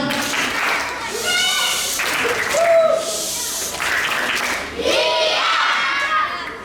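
Sunday school children at a church celebration doing a rhythmic clap chant together, loud and close, with bursts of group shouting and clapping in waves under an adult's voice.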